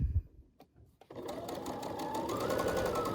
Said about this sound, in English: When I get to almost the end, I'll let go and I'll backstitch again.